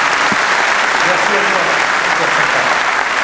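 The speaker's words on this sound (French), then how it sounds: "je voudrais aussi qu'on applaudisse Jean-René et puis aussi Henri" At the Europcar cycling team presentation in the Vendéspace arena, a large crowd applauds loudly and continuously, a dense roar of clapping with voices mixed in.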